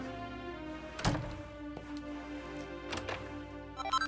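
Cabinets being opened in Dragon Quest XI: a few soft wooden thunks and clicks, one louder near the start and another later, over steady game background music.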